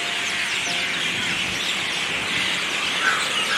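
Birds chirp and call close by along a lakeside jogging path near the Queens Hotel, a steady wash of thin twittering calls without talk.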